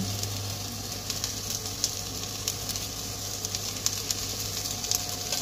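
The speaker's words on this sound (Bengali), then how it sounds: "এবার এই ঘিটা একটু গলতে দেবো। এর উপর দিয়ে দেবো পোস্ত।" Poppy seeds frying in melted ghee for a chicken xacuti, a steady close sizzle with faint crackles and occasional stirring taps, with no voices over it.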